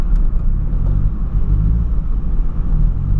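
A Ford Ka engine revs while the car stays stationary, giving a loud, steady low rumble that holds throughout with little change in pitch and no talking over it.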